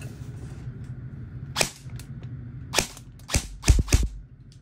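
An E&C 855 BCM airsoft rifle fires during a chronograph test with a handful of sharp, snappy shots, first single and then a quick cluster near the end, loud and close over faint background hum.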